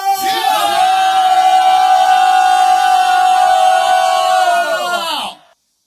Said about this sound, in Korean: 함성 주여 크게 외치겠습니다